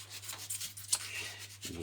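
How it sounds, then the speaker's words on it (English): A hand saw cuts roughly through a wooden orc blade being deliberately made to look crude, with soft, faint rasping strokes in an uneven rhythm, close and quiet with no talk. "I'm deliberately sawing like this, which gives it that sort of that look"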